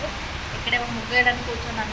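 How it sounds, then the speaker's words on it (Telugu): Heavy rain pours outside, heard as a steady, even hiss in the background while someone talks over it. "వర్షం అయితే ఫుల్ పడుతుంది, బయట సౌండ్ మీకు వినిపిస్తుంది."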